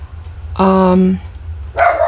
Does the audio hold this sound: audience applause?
no